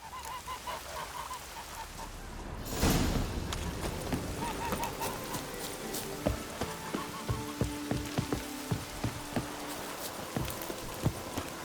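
Rain falling in the video game The Witcher 3, a steady dense patter with a sudden swell near the start and repeated sharp drips and taps over a constant wash.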